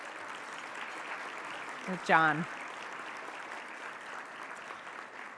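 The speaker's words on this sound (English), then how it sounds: "Let's give them a round of applause." Steady audience applause fills a civic awards ceremony, a continuous wash of many hands clapping, with a brief spoken phrase rising over it midway.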